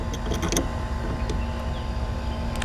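A Jaguar XK8 engine, just after an idle adjustment, drones steadily at high revs with a loud, sustained hum and a few brief clicks early on.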